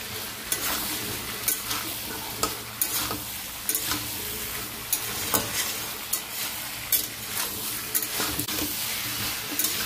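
Potatoes and soy chunks sizzle steadily in hot oil in a wok while a spoon stirs them, with periodic scraping clacks against the metal, close and continuous.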